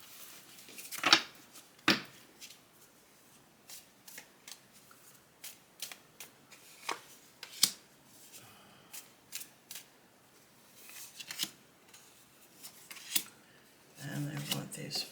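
Homemade alchemy card deck being shuffled and handled, giving scattered crisp riffles and sharp card snaps at close range, with a denser rustling burst near the end.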